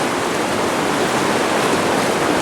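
Fast-running floodwater rushes past a flooded camp, a loud, continuous broadband roar of churning water with no pauses, close by and alone without talk.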